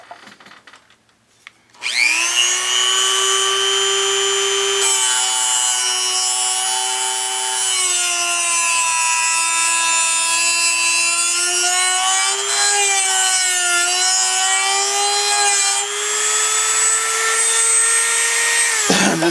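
A Dremel rotary tool grinds a flat spot into a wooden gun grip, giving a steady high-pitched whine that holds for over fifteen seconds, dipping slightly in pitch as the bit bites into the wood, close and loud.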